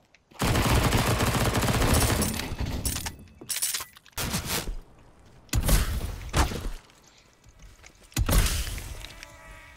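Gunfire in Counter-Strike Danger Zone, arriving as several loud bursts separated by short gaps, close and forceful with no talk over it.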